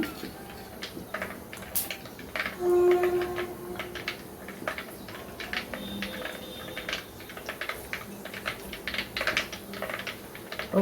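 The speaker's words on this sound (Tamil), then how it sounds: "கடுகு பொரிய ஆரம்பிச்சிருச்சு" Rapid irregular crackles and pops over a low sizzle as mustard seeds burst in hot oil, continuing steadily throughout. No voices.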